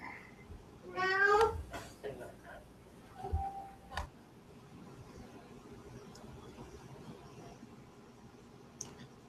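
A cat on a desk gives one clear, drawn-out meow near the mic, followed by faint clicks and low room noise, with no talking.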